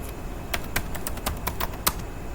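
Quick, light keystrokes on a computer keyboard while entering a search into a Chrome browser, an uneven patter of crisp clicks at close range with no talking.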